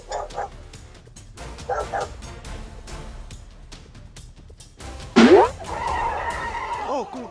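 A few sharp dog barks stand out, followed by a whining, whinny-like cry, amid scattered animal and background sounds at moderate loudness.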